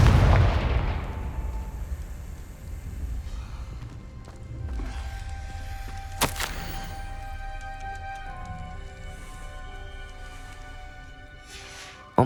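Confringo blasting spells going off in Hogwarts Legacy: a loud booming blast at the start, then scattered thuds and a sharp crack, fading into rumbling debris and ambient noise.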